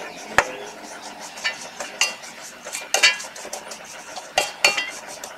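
A spoon stirs a mixture of Nestum cereal, milk powder and sugar in a pan, scraping and clinking against the metal in irregular strokes, close and moderately loud, with no talking.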